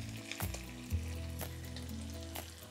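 Vinegar, sugar and tomato paste sizzle and evaporate in a hot pot for Sicilian caponata, a soft steady frying hiss with a low bubbling hum and a couple of brief clinks, close and without voices.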